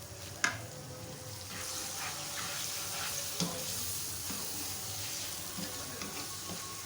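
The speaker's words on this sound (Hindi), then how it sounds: "आलू हमारे अच्छी तरह से भुन गए हैं दही के साथ।" Potatoes sizzle steadily with yogurt in a pot for potato rice, a constant close frying hiss broken by a few soft clicks from stirring, with no talking.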